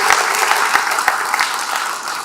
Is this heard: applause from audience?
yes